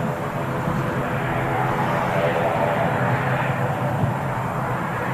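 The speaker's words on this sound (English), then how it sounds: "Just breaking through the clouds now. Saudi Dreamliner. Configured for the landing already." A Saudia Boeing 787-9 Dreamliner comes in to land at Manchester Airport, its engines making a steady, loud, broadband roar that holds constant throughout.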